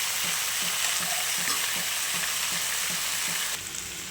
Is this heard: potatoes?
yes